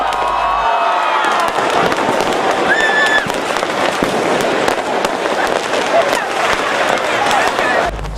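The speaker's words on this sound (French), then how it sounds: "témoins de ces feux d'artifice qui illustrent la naissance de cette nouvelle année" New Year's fireworks mark the turn from 2023 to 2024, with dense crackling bursts and pops filling the air over a cheering crowd, loud and continuous throughout.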